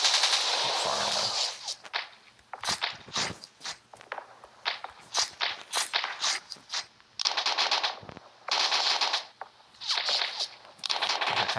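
Gunfire in the World War I strategy game Pixel Soldiers: The Great War, Russian Civil War battle at Tsaritsyn: bursts of rattling shots and clustered volleys, loud and close, separated by short gaps.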